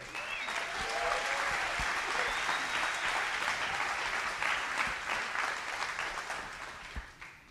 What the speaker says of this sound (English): you guys deserve a round of applause for making this happening